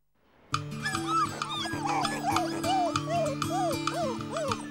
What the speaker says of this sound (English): They're an absolute joy, these Labrador Retriever puppies